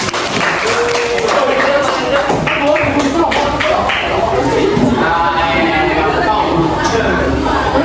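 Students in a classroom clap together in a dense, steady patter, mixed with voices talking throughout.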